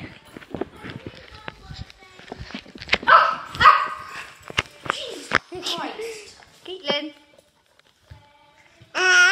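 A pet dog barks in a few short bursts, with someone talking and babbling around it and closing on a loud bark.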